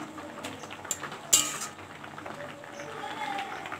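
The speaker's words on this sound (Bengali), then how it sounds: "ঢাকনাটা আমি খুলে নিচ্ছি।" A lid lifts off a cooking pot of boiled Malabar spinach greens with one brief metallic clink over a faint, steady kitchen hiss.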